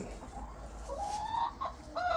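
Chickens cluck near the listener, rising squawks and short calls repeating over a low steady background, with no talk.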